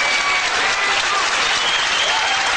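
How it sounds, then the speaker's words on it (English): An audience applauds at a 1995 world 8-ball pool championship semifinal, a steady, full round of clapping from the crowd that holds at an even level throughout. "he's getting a big round of applause, Mark Jarvis is, for a gallant battle"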